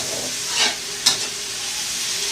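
Chai po, Thai preserved radish, frying in oil in a pan, a steady broadband sizzle with a couple of brief louder crackles or stirs. No one talks.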